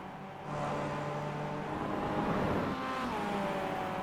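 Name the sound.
two Mazda MX-5 race cars battling, from iRacing video game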